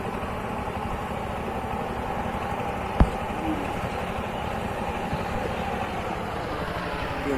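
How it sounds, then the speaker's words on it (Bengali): Power tiller engines run steadily nearby in a muddy farm field, a continuous mid-pitched mechanical drone with one sharp click partway through and faint talk underneath. "একটা পাওয়ার টিলার রয়েছে আমাদের এদিকে, ট্রাক্টর একটু কম চলে"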